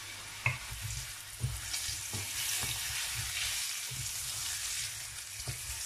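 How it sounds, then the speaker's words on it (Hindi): Potatoes fry with turmeric and salt in a pan, giving a steady close sizzle with occasional scraping stirs and spoon taps, and no talk. "बस 1-2 मिनट के लिए हम आलूओं को फ्राई करेंगे"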